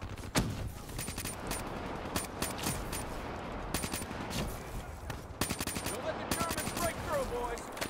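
Rapid bursts of automatic gunfire from the Black Ops 3 video game campaign crack out repeatedly in sharp, loud volleys over several seconds, with brief gaps between strings of shots.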